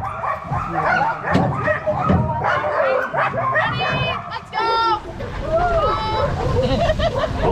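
Alaskan sled dogs yip, whimper and bark in excited bursts close by, with harmonic yelps standing out over a busy background of voices and movement on the sled.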